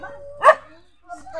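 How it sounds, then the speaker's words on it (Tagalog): A single sharp dog bark rings out close by, with quieter sounds and faint voices before and after it. "Nagagalit na po yung aso."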